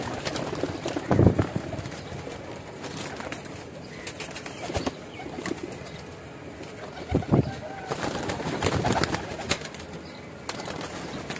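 Teddy pigeons coo softly in a loft, with occasional bursts of wing flapping and rustling against a steady background, while a person talks at times.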